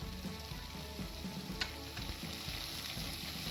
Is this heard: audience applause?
no